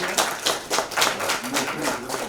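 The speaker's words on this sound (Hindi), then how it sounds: "तो एक बार जोरदार तालियां भाई हम सब के लिए।" Audience at a song launch event claps in a fairly sparse, rhythmic burst of hands, close and moderately loud, with a little speech-like murmur mixed in.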